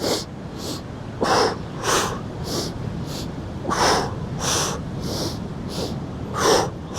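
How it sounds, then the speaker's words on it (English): During a Pilates mat workout at Poipu Beach, Kauai, a person does percussive breathing in a steady pattern of sharp paired inhales and exhales, loud and close over a constant wind-like background. "We're going to do that percussive breath. So it's inhale, inhale, exhale, exhale."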